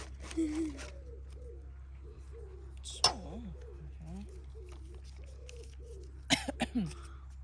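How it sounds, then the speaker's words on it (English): Pigeon or dove cooing at a campsite in Sweden, soft repeated coos in short phrases near the start, middle and end, over a steady low hum with faint voices in between. "Bird. Bird. Bird."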